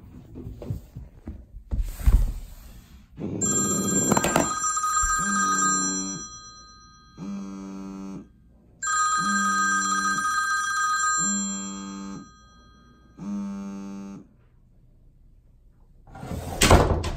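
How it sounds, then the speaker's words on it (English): A telephone rings in repeated bursts at the end of a homemade Rube Goldberg chain reaction, preceded by clattering knocks and a sliding thud, each ring loud and close with short silent gaps between. "It'll hit the bowling ball, call the phone, and then this phone will go off"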